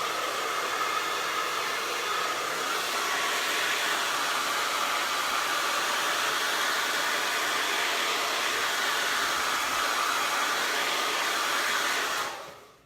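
A hair dryer blows on fresh craft paint with a steady, close, breathy roar that holds even for about twelve seconds and then cuts off abruptly at the end, with no talking.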